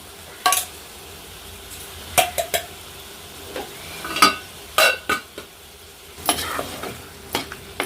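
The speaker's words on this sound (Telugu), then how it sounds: "ఇలా శుభ్రంగా కలుపుకున్నాక ఒక రెండు నిమిషాల దాకా ఇలా మగ్గించుకొని ఇలా నూనెలో మంచిగా ఫ్రై చేసుకుంటే" Chicken coated in coconut masala is stirred while frying in oil: close, intermittent scraping knocks of a spoon against the pan over a soft, continuous sizzle.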